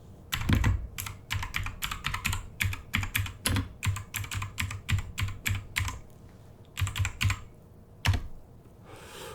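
Steady bursts of keystrokes on a computer keyboard as a report is typed, close and crisp, in clustered runs separated by short pauses, with no talking.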